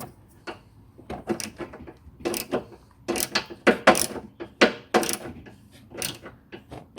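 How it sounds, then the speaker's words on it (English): A 10 millimeter socket wrench ratchets on a cooling fan relay bolt in a Town and Country, a close series of sharp clicking bursts in uneven short strokes with no talk. "use a socket. This is a 10 millimeter instead of a screwdriver, because this is hard."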